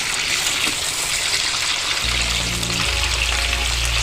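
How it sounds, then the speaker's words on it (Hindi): Mutton sizzles in a pan with garlic and ginger paste for Kashmiri rogan josh, a loud, steady crackling fry close by, with a low hum coming in partway through and no talking. "फ्राई होने लगा।"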